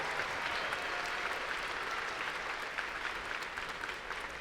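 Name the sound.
applause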